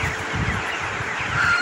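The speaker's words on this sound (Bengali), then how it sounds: "আজকে আপনাদেরকে নিয়ে আসছি আমার খামারে," Thirty-day-old broiler chickens on a poultry farm, a continuous low murmur of many birds clucking and rustling together, steady and fairly close, with no talking.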